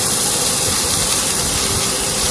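Ginger garlic paste sautéing in a pan for a spaghetti kebab, giving a loud, steady broadband hiss and sizzle that holds without a break from start to finish, with no voices over it.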